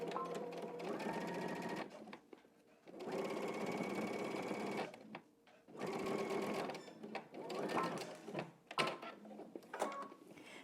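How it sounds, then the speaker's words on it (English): A domestic sewing machine stitches along the bottom edge of a pocket, running in several loud close bursts of rapid whirring separated by short pauses, with small handling clicks between runs. "Now we're going to head to the sewing machine. You're going to stitch along the bottom edge using 3/8 of an inch seam allowance."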